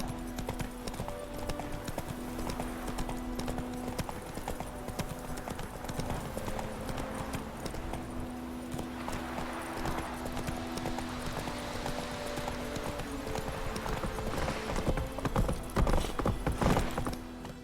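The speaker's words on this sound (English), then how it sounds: "Whoa there, Roach." Horse hooves clip-clop in a steady galloping rhythm through most of the stretch in The Witcher 3 video game, with occasional creaks and movement sounds; louder hoof strikes near the end as the horse is reined in.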